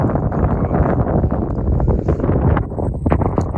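Strong wind on the beach at Plage Blanche, a loud, steady rumbling buffet against the microphone with gusty surges throughout.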